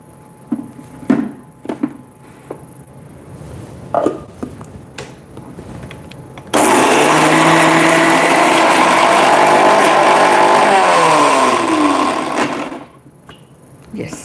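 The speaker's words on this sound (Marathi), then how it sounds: "हे असंच मिक्सरला फिरवून घेऊया" A few handling clicks and knocks, then a mixer grinder dry-grinding dal chutney ingredients roars to life with a loud, steady high-pitched whir for about six seconds before spinning down.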